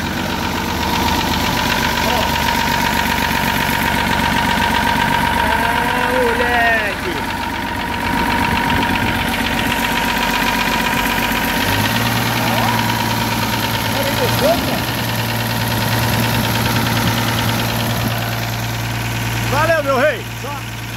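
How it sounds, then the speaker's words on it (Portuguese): A 1969 Mercedes-Benz engine idles loudly and steadily with a rough, knocking mechanical rhythm, close by, while people talk over it and a lower drone joins partway through. "Funcionamento do motor do bichinho."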